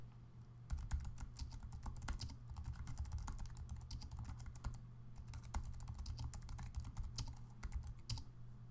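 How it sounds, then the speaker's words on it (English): Fast, continuous typing on a computer keyboard, a dense run of close, crisp key clicks over a low background hum, with no talking. "let's go ahead and start typing"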